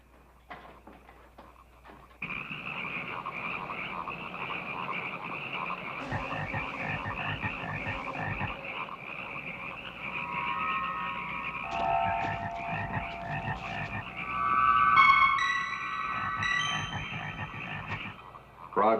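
Many frogs croak in a dense, continuous chorus of overlapping rhythmic calls, with some thin higher chirps joining later. The chorus is steady throughout and fairly close, with no talking.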